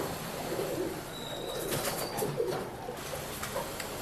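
Pet-shop pigeons, among them a Dhooma Pilanka male, coo softly with a few rustles and brief wing flutters over a constant background hum; no one speaks.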